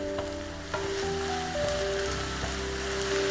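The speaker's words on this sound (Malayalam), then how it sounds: "ഇനി നമുക്ക് ഈ ഇഞ്ചി പച്ചമുളകും വെളിച്ചെണ്ണയിൽ നന്നായിട്ട് മൂപ്പിച്ചെടുക്കാം" Ginger and green chillies sizzle steadily in hot coconut oil, a continuous close frying hiss with a few faint tonal whines in the background and no talking.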